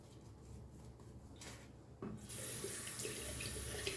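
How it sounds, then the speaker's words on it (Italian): Tap water runs into a sink while soap is being made, starting as a soft stream and turning into a louder, steady broadband gush about halfway through. "Provo a mettere un po' di acqua"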